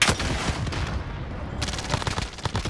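Gunfire crackles in a multiplayer shooter game: a loud shot at the start, a quieter stretch, then a rapid run of sharp reports.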